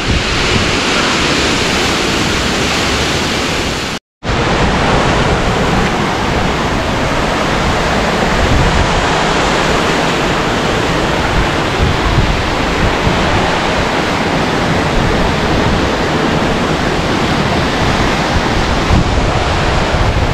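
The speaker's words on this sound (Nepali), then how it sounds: "अति चिसो हावा चल्ने रहेछ यहाँ" Strong cold wind roars over a mountain hiking trail in Dolakha, loud and unbroken, buffeting the microphone with dense rushing noise and one brief dropout.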